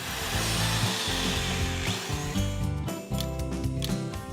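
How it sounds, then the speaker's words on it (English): Steady, loud grinding and whirring of a power drill boring holes along the mortar course of a brick wall, with a continuous rough drone and slight pitch wavering, heard alone without talk. "Next, you need to drill holes along the mortar course."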